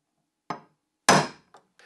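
A few sharp metallic taps from a punch marking holes ring out at uneven intervals, one louder strike in the middle, close and dry.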